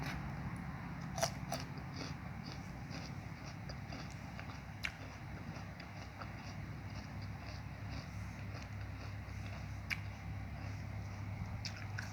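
Fresh Ahmed Dahan date fruit bitten and chewed close to the mic, heard as soft crunchy bites followed by quiet mastication under a low steady background hum, with no talking.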